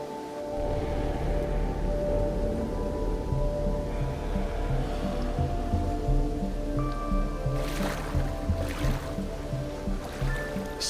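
Heavy rain falls over a river in the African savanna, a steady dense hiss with low rushing water underneath, continuous and fairly close, accompanied by sustained background music tones.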